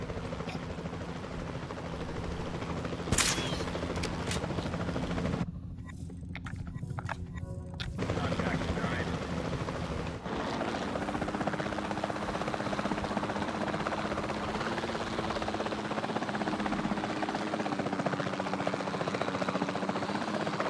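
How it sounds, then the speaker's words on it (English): A capture team helicopter in the video game Jurassic World Evolution 2 drones continuously with a steady rotor thrum close by, holding level throughout with a brief dip in the middle. "Then the sensible thing is to take a capture team helicopter."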